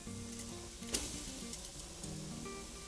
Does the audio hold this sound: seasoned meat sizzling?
yes